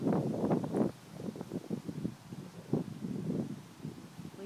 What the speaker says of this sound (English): the wind is gusting probably about 40 miles an hour or so